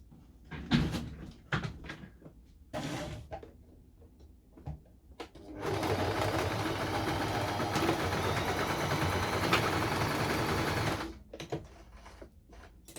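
Sewing machine running straight stitches to join elastic for a skirt waistband: a few short bursts, then a steady, loud continuous whir of about five seconds, followed by more brief starts and stops.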